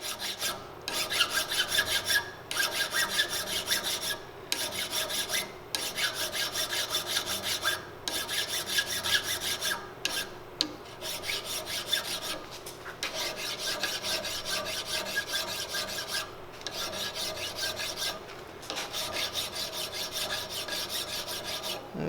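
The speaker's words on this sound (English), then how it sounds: "We just want to file the touch hole liner." A hand file rasps steadily on a touch hole liner set in a rifle barrel, giving close, repeated metallic strokes with short pauses between runs.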